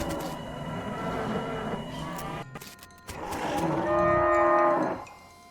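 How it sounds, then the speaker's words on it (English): Angry cows mooing in the video game West of Loathing: loud, drawn-out bovine bellows, the second rising into a strained, tonal moo, close and alone over a rough background. "I hear angry cows."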